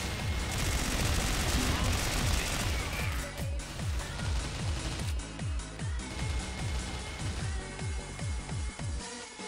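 Rapid gunfire from the online shooter CrossFire, on the Egypt map, fills the clip with dense automatic bursts and a loud, fast rhythm of repeated shots and game effects.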